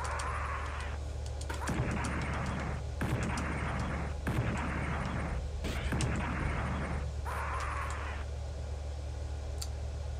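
Bursts of automatic gunfire from bullets fired in the Cyberdogs top-down shooter, several dense volleys over a low steady hum, loud and close, with brief pauses between bursts.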